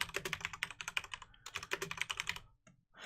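Quick bursts of typing on a computer keyboard, two rapid flurries of close, crisp keystrokes separated by a short pause, then quiet.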